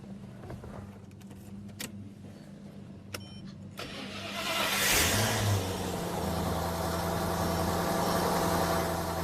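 A Maserati V8 cranks over and catches at once, jumping to a loud, steady idle rumble that holds. Before the start there is only quiet rustling, a few clicks and a low background hum.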